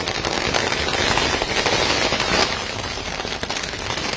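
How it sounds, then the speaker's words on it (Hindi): Firecrackers and fireworks go off at an election victory celebration for a by-election result in Andheri East, Maharashtra: a dense, continuous crackle of pops and bursts fills the scene, loud and steady throughout with no pauses. "यहाँ पर पटाखे आतिशबाजी की जा रही है"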